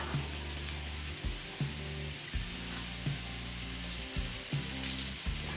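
Potatoes, beetroot and carrots frying in oil as cauliflower goes into the pan, a continuous soft sizzle under rhythmic low thuds and scraping from stirring, moderately quiet.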